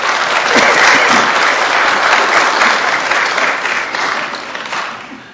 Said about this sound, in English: If I could ask you to hold the applause down